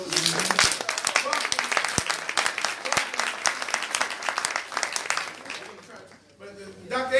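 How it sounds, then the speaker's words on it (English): An audience at a Nation of Islam town hall meeting gives a loud, sustained round of applause, dense clapping that thins out near the end with a few scattered claps. "give them a round of applause, brothers and sisters."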